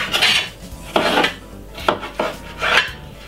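A knife slicing cucumber into small pieces on a board in a juice bar: four or five separate crisp cuts with brief scraping contact, close and clear, spaced irregularly, with no speech.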